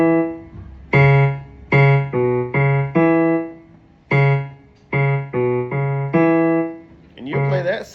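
A voice in a piano class sings a rhythmic piano pattern as a string of clear, evenly loud syllable notes in short bursts with brief gaps, close and steady.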